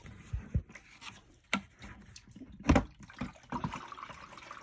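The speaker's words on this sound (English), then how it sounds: "So to flood the table, I'll just take the bucket and pour it in." Water poured from a bucket onto a flood table gives irregular splashes and trickles close by, with a few louder splashes and soft dripping in between.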